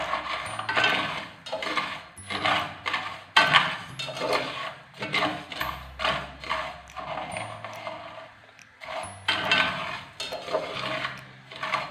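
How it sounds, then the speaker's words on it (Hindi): A metal spoon keeps scraping and clinking against a pan as sugar melts over a low flame, making repeated rhythmic strokes, close and fairly quiet, with no talking. "चीनी को हम करेंगे मेल्ट, और इसको बिल्कुल लो फ्लेम पे मेल्ट करना है, और चम्मच जो है वो मुसलसल हिलाते रहना है।"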